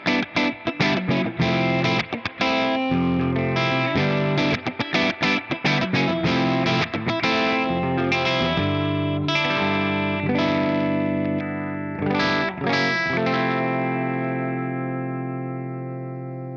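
An electric guitar through a Two-Rock Custom Reverb amp plays chords and single notes with a ringing, undistorted tone, the final chord sustaining and fading slowly.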